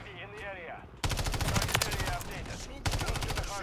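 Rapid gunfire in Call of Duty: Modern Warfare 3, a dense burst of shots starting abruptly and running for a few seconds, then a brief pause and another burst, loud and close.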